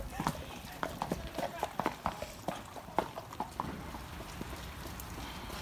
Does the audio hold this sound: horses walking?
yes